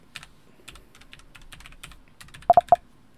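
Rapid clicking keystrokes on a Logitech MX Mechanical Mini keyboard, steady and close, ending with a few louder sharp clacks.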